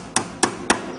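Three evenly spaced, sharp hammer blows struck at close range, loud and ringing, with no talk.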